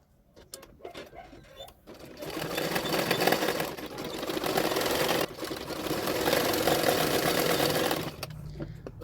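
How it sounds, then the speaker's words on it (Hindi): A sewing machine runs in two long bursts while stitching a double katori blouse, its rapid motor-driven needle chatter loud and close, broken by a short pause, with brief handling clicks before and after. "अभी उसको पीछे की तरफ फोल्ड करते और एक सिलाई डाल दूंगी।"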